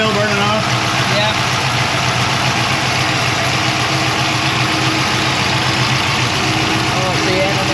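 A turbocharged 363 small-block Ford V8 in a Notchback idling just after its first start, a loud, steady, close rumble with a low throb, while people talk over it.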